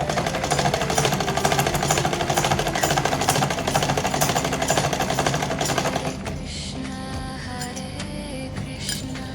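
A sewing machine runs steadily and loudly, stitching a seam on a small doll dress for a Laddu Gopal idol, its rapid mechanical chatter continuous for about six seconds before easing to a lighter hum with faint ticking.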